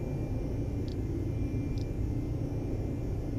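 Cessna Citation II business jet engines at climb power in the X-Plane 11 flight simulator, a steady broadband roar filling the cabin without a break, with two brief faint high tones.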